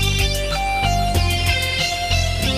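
Roland JD-Xi synthesizer part played an octave lower, a dense rhythmic synth pattern with regular pulsing hits, steady and full throughout.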